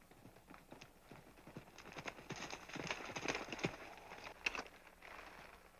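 Horse hooves clip-clop in an old western TV episode, a run of sharp, moderately close hoofbeats that grows louder in the middle before easing off, with no talking.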